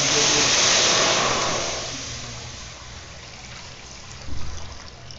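Water is poured into a cooking pot for fish sinigang, a steady broad pouring wash that starts loud and fades to a quieter trickle, with a brief splash near the end.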